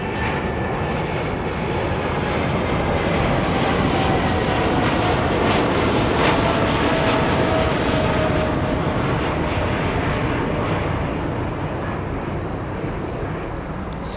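A Boeing Dreamliner jet departs Heathrow Airport. Its engines give a loud, steady roar that fills the whole stretch, swelling slightly toward the middle and then holding. No voices are heard.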